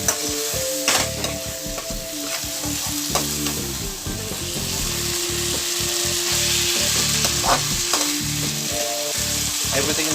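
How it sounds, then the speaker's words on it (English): Ground beef mince and green peas sautéing in a hot pan, a loud steady sizzle with frequent scraping and stirring clatter of a utensil against the pan throughout. "Everything now seems to be sauteed really well."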